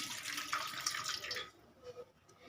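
Hot water poured from a vessel into a simmering village-style chicken curry, a steady close splashing pour for about a second and a half, then tapering to a few faint drips and trickles.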